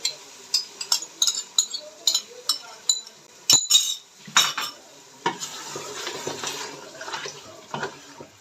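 A spoon stirring yogurt into mutton in a pot for a nihari korma, with a regular series of sharp metallic clinks against the pot, then softer wet stirring and scraping, close and clear.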